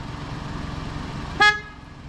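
A single short car horn toot sounds sharply over a low, steady engine idle, during a driving road test vehicle check in Canada.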